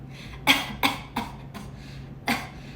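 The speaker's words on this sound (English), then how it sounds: "I want you to cough for me." Four sharp coughs, close and fairly loud, the first three in quick succession and a final one after a short pause, with a low steady hum underneath.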